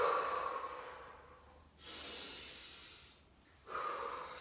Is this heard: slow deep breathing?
yes